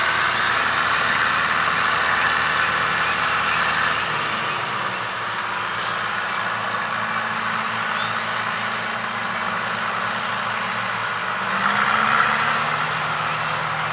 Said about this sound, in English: Oh, the guard's operating one of the tractors.